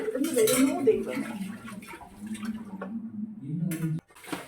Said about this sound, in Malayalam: എനിക്ക് ഒട്ടും ഇഷ്ടമില്ലാത്തൊരു ജോലിയാണ് ഈ പാത്രം കഴുകുന്നത്